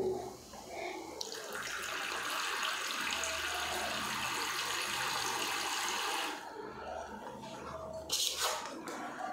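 Water pours and splashes steadily into liquid waterproofing being mixed for white cement grout on bathroom tiles, a continuous close rushing that stops abruptly near the end, followed by a brief splash.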